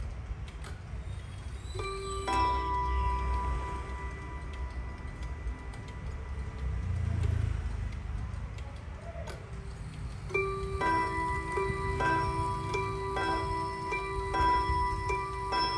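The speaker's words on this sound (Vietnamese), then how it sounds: "8 giờ thì đồng hồ bính bông 8 lần anh em." An antique European oak wall clock sounding two-tone chimes, with sustained ringing strikes in a slow series against a background of room noise and faint low rumble.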